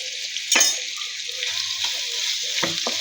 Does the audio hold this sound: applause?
no